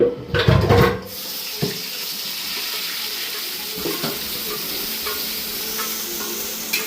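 Onion paste sizzles and spits in hot oil for chicken biryani, a loud burst of frying and stirring at first, then a steady broad crackle with occasional pops, close by and without talk.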